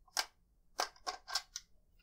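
Barrel being removed from a Ruger PC Carbine, heard as a handful of quiet, sharp metallic clicks and snaps, one early and a quick cluster of three or four later, against near silence.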